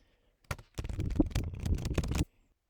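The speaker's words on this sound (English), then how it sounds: "And then we're going to do a big shuffle." A long, continuous rapid riffle of playing cards, a dense clattering flutter lasting nearly two seconds, close and fairly loud, then stopping abruptly.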